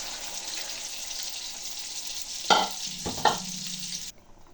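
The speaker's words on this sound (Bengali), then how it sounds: "এবার জল ঢেলে দেবো।" A fish and potato curry sizzles steadily in the pan, broken by two splashy bursts as water is poured in, then the sound drops to near silence.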